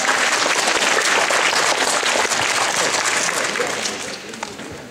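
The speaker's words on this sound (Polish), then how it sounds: "pan Zbigniew Bermes. Brawo panu." Sustained audience applause in a hall welcoming a guest, the president of a school sports association, at a chess tournament; dense steady clapping that fades slightly toward the end, no talk over it.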